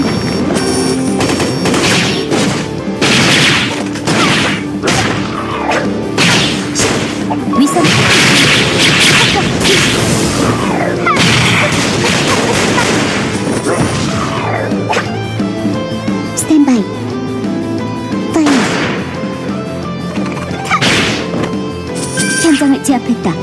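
Rapid gunfire, crashes and booming explosions fill a battle in the Closers video game, dense and loud throughout, with a voice talking over the combat.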